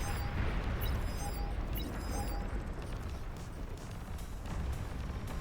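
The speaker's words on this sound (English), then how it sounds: "There's lots of explosions going on." A continuous rumbling barrage of explosions in the strategy game Beyond All Reason during an 8v8 battle, dense and steady throughout, with faint electronic tones flickering above the roar.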